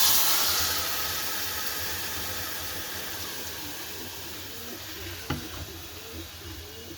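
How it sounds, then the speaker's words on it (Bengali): Meat sizzles loudly in a hot wok on a gas stove. The hiss and crackle ease off gradually, with a brief clank of stirring near the end. "এবার মাংসটাকে এবারে কড়াতে দিয়ে দেবো"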